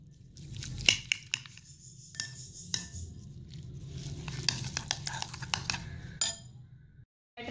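Egg batter with green chilli and spices gets mixed in a bowl, making rapid clinking and scraping strokes against the bowl at close range. The strokes come in uneven bursts, a soft voice murmurs underneath, and everything ends in a sudden cut to silence.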